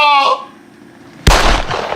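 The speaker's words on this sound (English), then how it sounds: "Let me lick a gunshot for ya." A loud, close gunshot sound effect: a sudden sharp burst that fades into a noisy tail, preceded by a brief tonal voice sound and a quiet gap.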